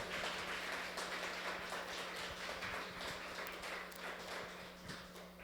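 Sustained applause from an audience at an evening arts performance, steady dense clapping throughout with no distinct voices.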